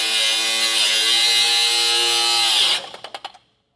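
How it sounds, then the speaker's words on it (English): A cutting wheel grinds through rusted trailer leaf-spring bolts with a loud, steady high-pitched whine that cuts off abruptly, followed by a few sputtering pulses as the tool spins down. "With these as rusted out as they are, I'm going to go ahead and just cut them off. I've got a cutting wheel here."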